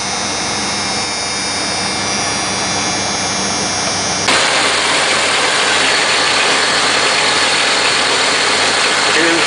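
A 1993 Dodge Dakota 3.9L engine, freshly fitted with new fuel injectors, runs steadily at idle close by, with a brief shift partway through into a slightly louder, broader hum that then holds even to the end.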